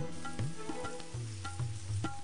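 Lamb mince samosa filling with tomatoes frying in oil in a pan, a steady close sizzle with soft scraping stirs and light clinks, no voices.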